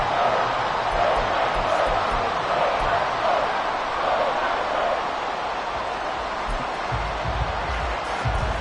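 A football stadium crowd roars steadily and densely throughout at an even level, with a commentator's voice faint underneath.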